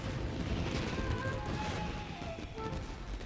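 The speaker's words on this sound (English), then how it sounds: "Yoimiya, this is turning into a bit of a fireworks display." Fireworks burst and crackle in the video game Genshin Impact, a dense continuous barrage of popping explosions close by with no clear pauses.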